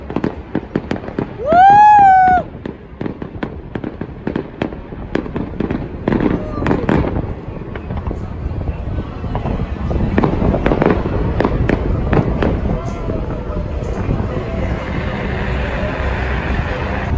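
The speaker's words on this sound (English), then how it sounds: "we're getting the best view of the fireworks" Fireworks crack and boom repeatedly in a dense barrage at the Royal Adelaide Show, with a rising whistle early on and people's excited voices mixed in.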